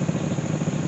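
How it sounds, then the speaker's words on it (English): A 1960 Wheel Horse garden tractor, rebuilt with four modified 5-horsepower Briggs & Stratton engines, idles at a show with a steady, even, close engine rumble throughout a brief moment, no voices. "It's like a 1960 wheel horse garden tractor."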